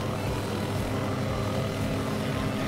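A helicopter flying in Garry's Mod, a steady loud engine and rotor drone that holds constant and close throughout, with no talking over it.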